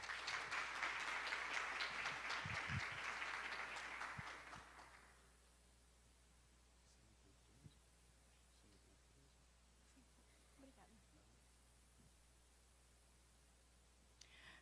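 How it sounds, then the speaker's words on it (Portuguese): An audience applauds a professor before a talk on social media and education, loud sustained clapping for about five seconds that fades out into quiet room noise with a few faint rustles. "uma salva de palmas para a professora Elisa Amâncio"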